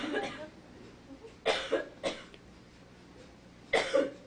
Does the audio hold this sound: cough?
yes